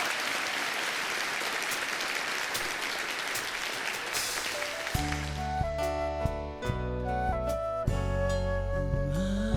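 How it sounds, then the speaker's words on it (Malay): Audience clapping at the Rayakustika 2023 concert, a dense, moderately distant wash of applause for about five seconds before music with piano-like notes takes over. "Tepukan."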